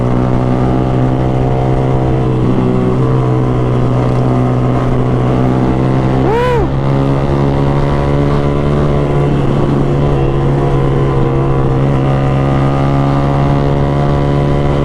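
A vehicle engine accelerates while driving in traffic toward Wanayasa: a steady, loud, close drone with strong low harmonics running throughout, plus a brief rising whine around the middle, with no talking.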